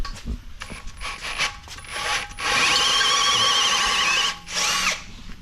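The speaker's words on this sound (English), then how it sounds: "you can hear a drill going in the background." A step drill starts in brief bursts, then grinds loudly and continuously through new metal wheels before a short pause and another burst, nearby and unaccompanied by talk.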